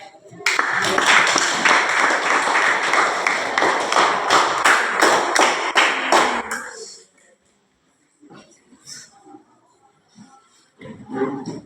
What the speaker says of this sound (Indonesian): Ibu minta kalian kasih aplaus untuk kelompok.